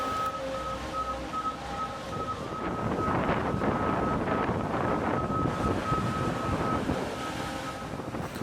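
Strong wind buffets the microphone in a steady low roar, with a faint tonal hum running through and gusts swelling midway.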